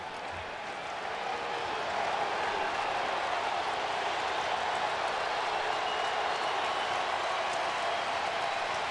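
A college football stadium crowd at Alabama versus Tennessee applauds and roars in a sustained, distant wash of clapping and cheering that swells after the first second and holds steady.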